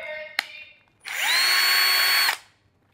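A Bosch cordless electric drill/screwdriver whirs loudly for about a second and a half, its motor revving up to a steady whine and then cutting off, after a brief click and some softer handling noise.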